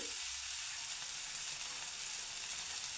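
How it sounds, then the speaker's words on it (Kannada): Chopped ridge gourd added to a frying tempering of onion and tomato gives a steady, fairly quiet sizzle close by, with a faint stirring clatter at the start and no voices. "ಈಗ ಒಗ್ಗರಣೆ, ಈರುಳ್ಳಿ ಟೊಮೆಟೊ ಎಲ್ಲ ಫ್ರೈ ಆಗಿದೆ. ಇದಕ್ಕೆ ಹೀರೆಕಾಯಿ ಹಾಕ್ತಾಯಿದ್ದೀನಿ."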